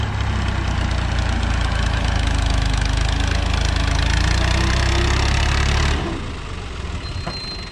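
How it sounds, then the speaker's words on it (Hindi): Tractor engines idle steadily and loudly while trolleys are loaded with soil, a continuous low diesel rumble that drops off suddenly near the end, with no talking. "ये ट्रैक्टर ट्राली लोड हो रहे हैं,"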